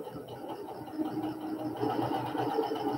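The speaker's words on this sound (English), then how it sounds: "And I'm going to sew them all." Sewing machine chain-stitching quilt block pieces with a quarter-inch seam, a steady rapid mechanical whirr close by, running without pause for a few seconds.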